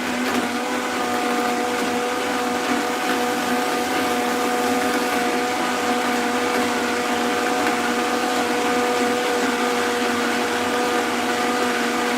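Blender running continuously while making a smoothie, a steady motor whine with tonal hum held level throughout, close and loud with no pauses.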